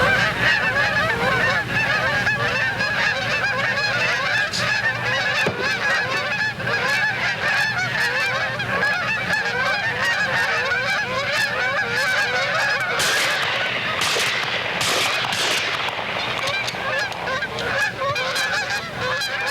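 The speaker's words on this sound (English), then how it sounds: "Soon the honking of geese grows louder and louder." Flocks of geese flying in over a field on the opening day of goose season, honking loudly and continuously, with overlapping calls from many birds that swell as they approach.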